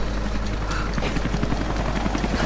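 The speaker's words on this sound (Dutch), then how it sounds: "Wow, helikopter." Helicopter in the Rise of the Tomb Raider video game, a steady loud rotor chop and engine drone filling the whole stretch without pause.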